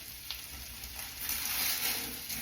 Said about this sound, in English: I'm going to put that in and saute it with the garlic